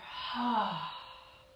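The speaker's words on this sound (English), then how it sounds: "Continuing with a deep belly breath. Inhale. Exhale back through center." A deep belly-breath exhale during a gentle yoga session, a single long breathy rush that swells and then slowly fades, heard close and alone with no talking.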